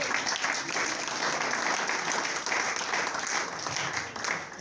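A church congregation breaks into sustained, dense applause, loud and even throughout, with faint voices blended into the clapping.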